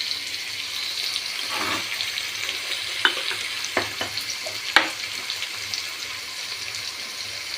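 Potatoes frying in a pan with salt and turmeric for an okra and potato curry give a steady, close sizzle, broken by a few sharp clicks and scrapes of stirring.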